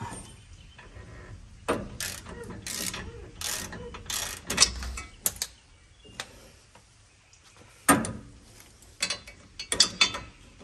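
Rear brake bolts on a 2007 Ford Sport Trac are driven with a wrench, giving scattered sharp ratcheting clicks and mechanical bursts with quiet gaps between them, close and fairly loud.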